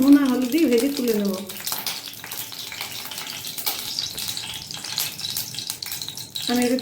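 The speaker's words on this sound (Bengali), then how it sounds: "প্রথমে আমি মাশরুমটা ভালো করে ভেজে নেব" Mushrooms fry in hot oil with salt and turmeric, giving a steady sizzling crackle throughout, while a voice speaks briefly at the start and again at the end.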